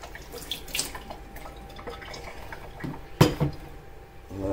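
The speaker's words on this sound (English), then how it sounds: "Just pour some zero water on it. It's like a spot-free rinse, basically." Zero Water is poured over a telescope primary mirror, a Celestron StarSense Explorer 130DX, to rinse it. The result is soft, intermittent trickling and dripping, with a couple of sharper splashes near the end.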